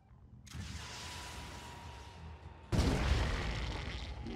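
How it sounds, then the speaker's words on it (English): Explosions in Phoenix Point tactical game combat: a sustained rumbling blast followed by a second, louder burst with broad noisy roar, no talk. "the explosion radiuses are significantly larger than what you see"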